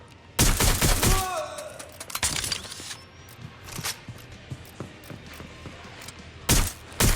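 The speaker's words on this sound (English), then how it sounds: "They're shooting at us!" Gunfire in the video game Watch Dogs Legion: a loud burst of rapid shots at the start, scattered single cracks through the middle, then another sharp volley near the end, with mechanical clicks between.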